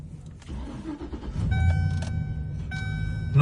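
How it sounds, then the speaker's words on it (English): The engine of a Class 4 vehicle runs during a pre-trip inspection in British Columbia, a low idle rumble heard from inside the cab that strengthens midway, with a few electronic chime tones over it. "Engine sound is also good."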